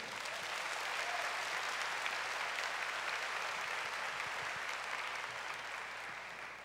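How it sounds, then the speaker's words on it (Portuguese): An audience at a healing and deliverance retreat applauds in a continuous, even roar of clapping that sounds somewhat distant and tapers slightly toward the end. "Vamos aplaudir o Senhor."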